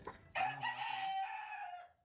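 A Leghorn and Brahma cross chicken crows loudly and close by in one long call that rises, holds, then trails off, with faint clucking just before it.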